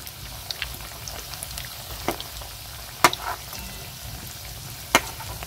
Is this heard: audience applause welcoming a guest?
no